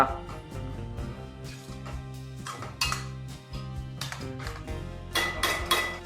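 A spatula stirring dahi bhindi masala in a pan: okra in yogurt gravy with sugar, kasuri methi and coriander leaves. Repeated metallic scrapes and clinks come in uneven bursts over soft background music.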